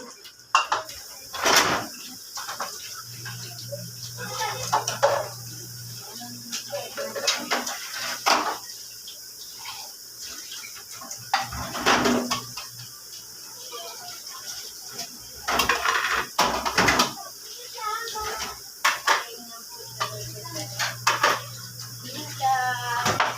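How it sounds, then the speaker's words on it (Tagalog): Dishes are washed by hand at a sink. Plates and cutlery clink and clatter against each other, and a tap runs in bursts. A person speaks intermittently throughout, with a low hum in the background. "Maghuhugas na po muna tayo ng pinggan."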